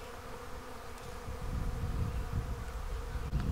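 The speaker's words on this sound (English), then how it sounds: "Lots of honeybees for sure." Honeybees buzz around Washington hawthorn blossoms with a continuous close drone that swells and fades as they move among the flowers.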